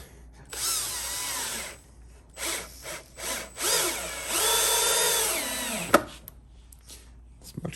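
Milwaukee M12 cordless drill running in several bursts that rise and fall in pitch, loud and close, with short pauses between runs and a sharp knock near the end.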